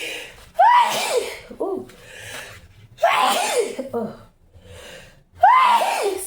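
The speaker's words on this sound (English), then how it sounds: "I'm still sneezing." Three sneezes spaced a couple of seconds apart, each with a sharp gasping intake and explosive burst, close to the mic, with a person's brief exclamations between them.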